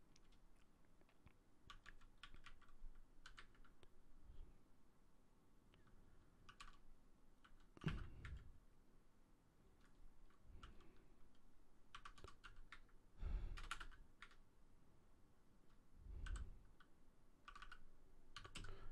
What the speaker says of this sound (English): Once you go here, you will type in your code.